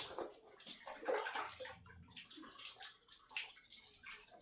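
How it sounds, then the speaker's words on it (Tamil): Water poured over a child during a shampoo bath, soft splashing and gurgling in bursts, faint and close, with a voice speaking intermittently underneath. "தண்ணி வேற விடாம ஊத்துறீங்களே"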